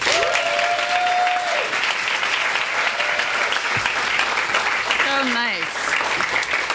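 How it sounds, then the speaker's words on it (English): An audience breaks into sustained applause to welcome a speaker at a Los Angeles author event, steady loud clapping throughout with a few faint voices mixed in. "Ladies and gentlemen, please welcome Aimee Bender."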